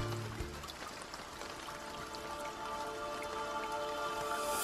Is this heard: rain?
yes